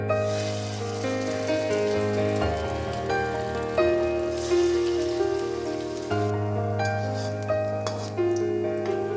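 Semolina donuts fry in hot white oil, giving a steady, close sizzle that runs continuously under background music.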